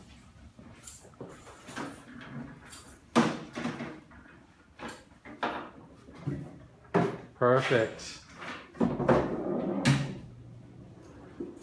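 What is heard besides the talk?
dorm chair being pulled apart into rocking chair and stool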